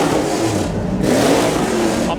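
A 5.2-litre V10 supercar engine at a show blips its throttle, a loud, close, broad roar sustained throughout with a brief dip and swell near the middle, people talking faintly underneath.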